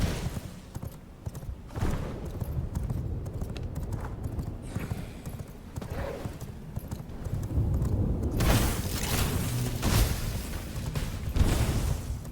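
Horse hooves clip-clop steadily in the vampire survival game V Rising, a continuous rhythmic trot over rumbling ambient game noise and music, growing louder in the second half.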